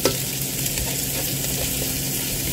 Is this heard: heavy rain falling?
no